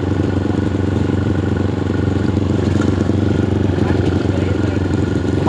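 Motorcycles from a twelve-bike group ride idle and rumble together nearby, a continuous engine drone with clattering, while people talk faintly amid the noise.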